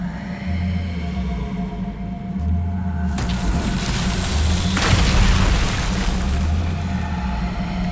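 A Confringo explosive spell in the Hogwarts Legacy video game goes off as a deep booming blast and rumbling roar that swells midway and slowly fades.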